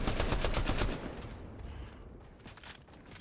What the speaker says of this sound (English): Shots at me from up top.